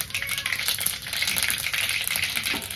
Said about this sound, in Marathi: फोडणीसाठी मी गॅसवर तेल ठेवलेलं आहे. एक चमचा मोहरी टाकले, एक चमचा जिरे आहे.